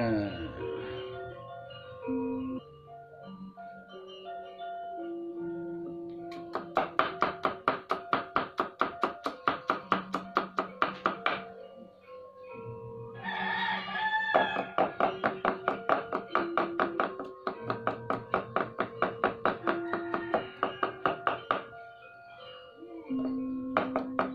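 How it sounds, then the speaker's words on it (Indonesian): Rapid rhythmic knife chopping of turmeric root for Balinese bumbu rajang spice paste on a board, bursts of quick even strokes with short pauses, close and clear over steady background music. "Selanjutnya kita cincang yaitu kunirnya guys"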